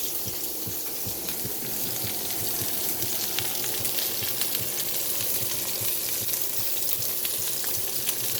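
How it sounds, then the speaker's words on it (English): Steak searing in a hot pan, a continuous close sizzle and crackle with light spattering pops, steady in loudness and free of talk. "now that we've got both sides seared off"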